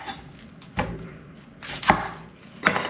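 A knife chops through an onion on a cutting board while fire cider ingredients are prepared, three sharp, close thuds spaced unevenly against a quiet kitchen background.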